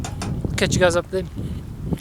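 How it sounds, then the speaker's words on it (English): Gusty wind buffets an outdoor microphone with low rumbling bursts while people talk over it. "Sorry about the wind."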